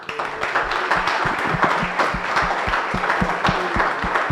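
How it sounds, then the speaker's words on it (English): Audience applauds panelists at a public lecture on emerging clean energy trends in Australia, a steady wash of clapping with distinct individual claps standing out, sustained through the moment at moderate loudness. "I would like for us to give 2 rounds of applause."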